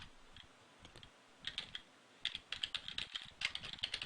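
Code being typed on a computer keyboard for a Java programming lesson, with sparse, slow keystrokes at first that become quicker, steadier clusters of close, crisp clicks, with no talking.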